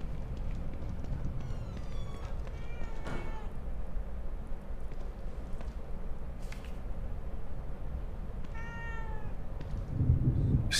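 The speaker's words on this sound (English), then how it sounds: "A cat." Cat meowing in the horror video game The Evil Within 2: a few distinct meows spread across the stretch, over a steady low ambient drone and rumble.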